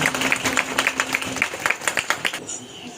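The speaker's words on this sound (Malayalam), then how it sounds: "നമുക്ക് നല്ല ഒരു കയ്യടി കൊടുക്കാം" An audience at a disability day function claps steadily in a short, close burst of applause that thins out toward the end, with a faint hum running underneath.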